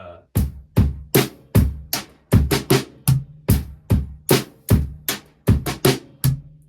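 A slow drum groove, with steady kick and snare hits and crisp cymbal strikes, evenly spaced and played close and loud, with no talking.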